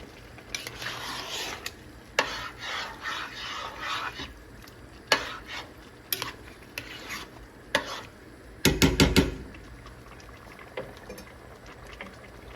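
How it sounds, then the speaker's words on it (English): Mutton pieces go into a pot for Kashmiri yakhni pulao, giving a sharp sizzle and clatter burst amid scattered stirring and scraping sounds, with no talk. "we are going to add the meat."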